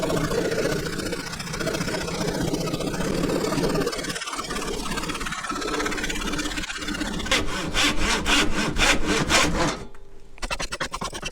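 Hand sawing wood to square off a small cutting board: steady, close rasping back-and-forth strokes, loud and continuous, turning into faster, sharper strokes near the end before the cut finishes, no talk.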